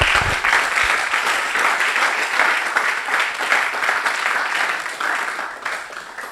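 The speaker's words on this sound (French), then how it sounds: "J'aimerais que vous l'applaudissiez encore." An audience at an institute event applauds its director, loud continuous clapping from a large crowd lasting several seconds without pause.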